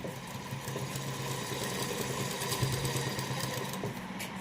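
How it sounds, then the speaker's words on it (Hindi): A sewing machine runs continuously while stitching along the edge of a piece of cloth, giving a close, steady mechanical whir with no pauses. "कपड़ा हम ऐसे पीछे करते जाएंगे यहाँ पे ऊपर, और ये हम सिलाई लगाते जाएंगे।"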